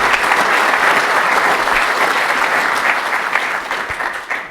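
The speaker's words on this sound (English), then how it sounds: "Let's give Pete a round of applause first." Sustained audience applause at a conference, a dense steady wash of many hands clapping that fades slightly toward the end, with no talk over it.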